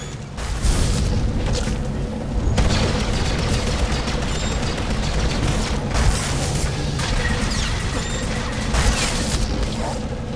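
Explosions tear through a research station in the video game Taral V, heavy booms and crashing blasts landing every couple of seconds over a continuous rumble of debris and gunfire, loud and close throughout.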